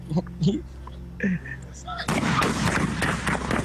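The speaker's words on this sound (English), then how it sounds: "gunshots rang out, loud and unmistakable" Voices exchange brief words, then a sudden burst of loud, sharp gunshots, several bangs in quick succession that keep ringing on, recorded on a livestream.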